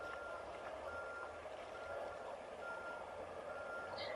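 Construction vehicles on an outdoor building site give faint, distant reversing beeps that repeat steadily under a constant broad background hiss.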